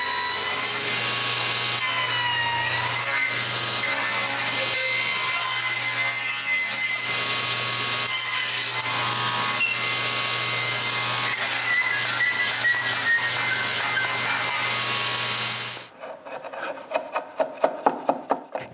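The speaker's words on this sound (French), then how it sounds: "je coupe les mortaises. Premièrement, en coupant les deux joues, puis ensuite en coupant de petites portions de la mortaise." A hand saw cuts the two cheeks of a wooden mortise in steady, continuous back-and-forth strokes, close and loud, ending in a few slower, distinct rasping strokes.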